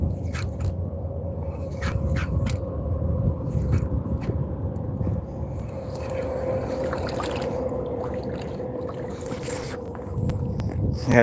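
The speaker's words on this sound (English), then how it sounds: "Yeah, that boat was hauling" A fast powerboat runs bow high, throwing a big rooster tail, its steady engine drone and water rush continuous and close, with a faint tonal whine over the low rumble.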